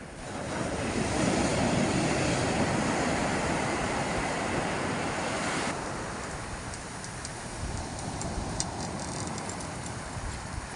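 Loud sea waves surge and wash at a fishing spot on the shore, a continuous broad roar mixed with gusting wind noise. The roar eases slightly partway through.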